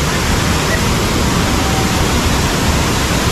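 The Padsare waterfall near Lonavla, a large fall where water drops from high up, roars as a steady, dense, loud rush with no pauses, filling the whole scene.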